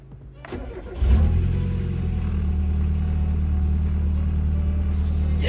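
Mazda Miata engine cranks briefly, catches and starts, then settles into a steady close rumbling idle with a slight rise in revs, while a person talks over it.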